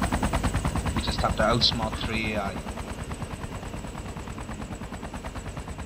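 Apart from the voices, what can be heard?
machine gun fire from AI in video game DayZ Epoch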